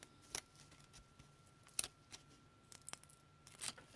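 Small paper edge pieces are peeled off their backing in a few quick, crisp tearing rips scattered among quiet handling rustles, close and soft.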